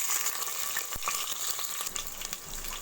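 Onions and curry leaves fry in hot oil for biryani, a dense, steady crackling sizzle heard up close with scattered sharper pops and occasional stirring, and no speech over it.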